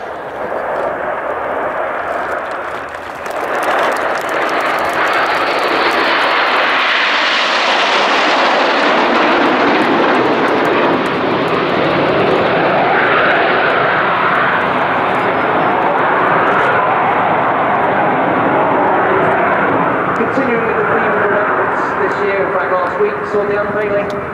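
Red Arrows display jets in Phoenix formation roar overhead at an airshow, a loud broad continuous engine rush that builds and holds for many seconds, with a commentator's voice audible beneath.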